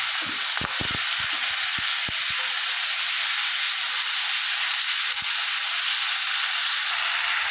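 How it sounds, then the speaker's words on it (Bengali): Green tomato curry with turmeric is stirred in a frying pan, a steady loud hiss of sizzling with a few sharp scraping clicks of the spoon early on and no talking. "এবার একটু নাড়াচাড়া দিয়ে মিশিয়ে দিই"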